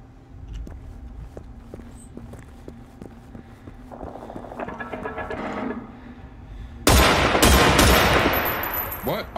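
Gunfire in the Generation Zero video game, starting as scattered distant shots over footsteps, then building into a loud sustained burst of rapid fire near the end.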